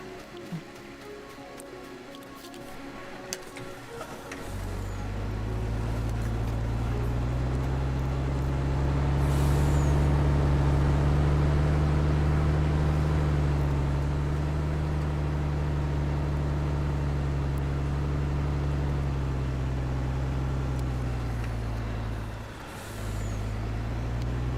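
Tractor in a harvest farming game, its engine starting up after a few seconds of quiet and then holding a loud, steady low drone that swells midway and briefly dips near the end.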